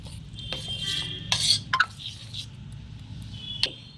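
Sliced onions being mixed into a roasted eggplant chutney, with soft stirring and squishing and a few light utensil clinks against the bowl, quiet and close.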